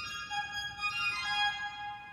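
An organ keyboard plays a piccolo voice with the right hand, a thin high-pitched sustained melody of a few held notes, quiet and alone.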